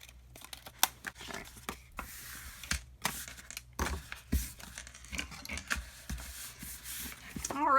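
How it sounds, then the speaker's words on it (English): Scissors snipping through a paper pouch template to cut off the bottom curve, a series of close, irregular cutting and paper rustling sounds with quiet pauses between. "just go ahead and cut the bottom curve of it off"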